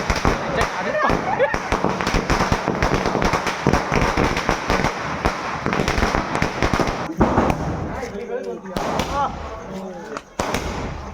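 Firecrackers bursting on Tulsi Vivah day, a dense run of loud, crackling explosions that carries on without a break, with people talking and shouting now and then over the blasts.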